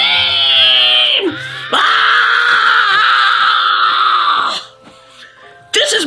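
A person lets out a loud, shrill, sustained scream in a home kitchen, broken by a brief pause and then resumed, very close and intense.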